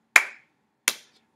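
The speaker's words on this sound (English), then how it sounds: "how about snap, snap, clap, clap" Two crisp, sharp hand sounds a little over half a second apart, snapping or clapping during a children's music lesson, each a quick close attack with a short decay into silence.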